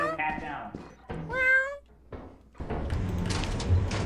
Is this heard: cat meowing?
yes